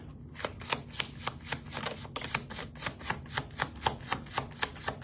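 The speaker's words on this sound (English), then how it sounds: "Last shuffle, Spirit." A deck of tarot cards is shuffled by hand in a quick, steady run of crisp, close riffling taps, about four per second, with no talk.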